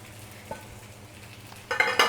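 Khichdi being stirred in a pan as peanut powder is mixed in, quiet soft scraping at first, then a louder burst of sizzling and stirring toward the end.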